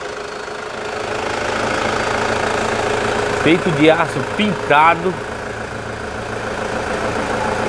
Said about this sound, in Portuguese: agora vocês estão percebendo que o motor está em funcionamento